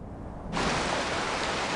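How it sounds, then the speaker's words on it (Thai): Heavy rain during the rainy season in Tanzania: a dense, steady hiss of downpour that suddenly grows much louder and stays constant. "ฝนตกหนักมากขึ้น ในช่วงฤดูฝนมีฝนตกหนักเช่นนี้เกิดขึ้นในบริเวณนี้หลายครั้งต่อวัน"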